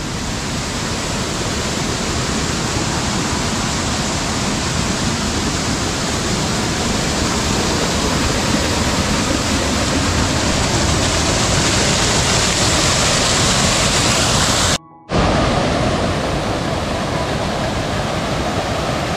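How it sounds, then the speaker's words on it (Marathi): A swollen, muddy stream in the rocky laterite landscape of Konkan after heavy rain rushes as a loud, unbroken roar of water close by, cut briefly by one short dropout near the end. "तो वहाळ एकदम फुडून तिकडून येतो, तिथून एकदम वाहत वाहत इकडे या साईडला येतो"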